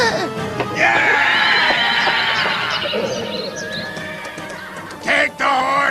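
Horses neigh and whinny loudly and close by in a medieval battle scene near Ain Jalut, with repeated shrill calls, some clip-clop movement, and shouting voices mixed in.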